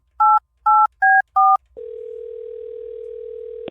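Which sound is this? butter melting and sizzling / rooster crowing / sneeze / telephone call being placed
telephone call being placed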